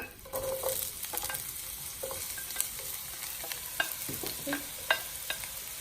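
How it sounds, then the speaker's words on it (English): Red onions sizzle and crackle steadily in hot oil, with a spoon scraping and stirring the pan now and then, close and fairly quiet. "we're going to add some red onions to the hot oil"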